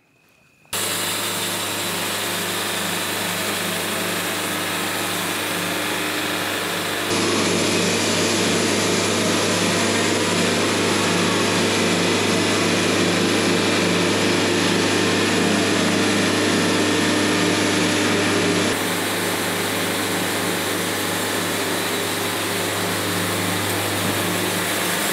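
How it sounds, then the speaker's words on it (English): A power saw cuts through scrap dunnage wood in a steady, loud drone that carries unbroken for the whole stretch, with a slightly stronger section through the middle and no talking. "I'm going to shut up now and get sawing."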